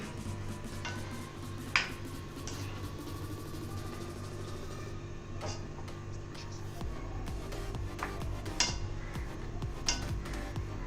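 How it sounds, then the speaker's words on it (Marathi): Grated coconut is gently stirred into cooked rice for narali bhat in a pot, with soft, intermittent spoon scrapes and clinks against a steady low hum, close and fairly quiet. "आणि खवलेला नारळ. आणि असं हलक्या हाताने हलवून घ्यायचं."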